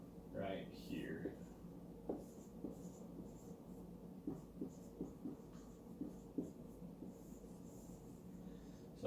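Marker writing on a board while working through a physics equation, soft irregular squeaks and taps close by, with faint breathing and a brief murmur early on.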